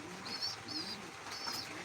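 A domestic pigeon, a white grizzle-bred bird kept at home, gives soft repeated coos, three short rising calls spaced across the moment, fairly faint and close.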